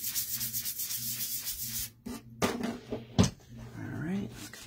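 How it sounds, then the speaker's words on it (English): Light brushing over a honeycomb piece to remove excess sand and wax, soft rhythmic rubbing strokes up close, followed by a few scraping handling sounds. "just to make sure that I didn't get too much sand on, or wax on, I'm just going to do a light brushing"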